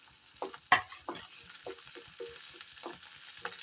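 Shallots, garlic and small pieces of ginger fry in a pan for a Malayalam-style anchovy curry, giving a soft sizzle with intermittent stirring clicks and scrapes, close and quiet.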